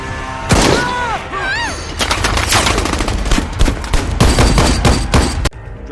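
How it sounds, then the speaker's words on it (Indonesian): A rapid barrage of gunshots rattles close and loud in a film action scene, bursts overlapping with shouted voices and whining tones, ending abruptly. "di tengah gempuran tembakan ini"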